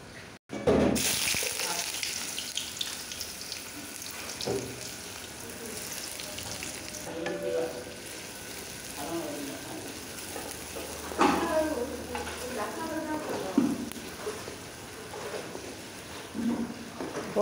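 Fish frying in hot oil alongside onion and garlic, a steady close sizzle running throughout with a few brief clatters and louder bursts of crackle near the end.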